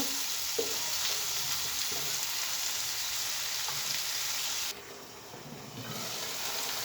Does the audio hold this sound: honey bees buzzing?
no